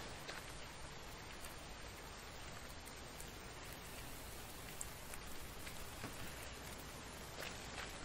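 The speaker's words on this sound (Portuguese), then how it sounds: "A chuva aqui é doida também, olha aí, ó." Steady, dense rain in a zombie survival base-building game, a constant hiss of drops on surfaces with no speech over it.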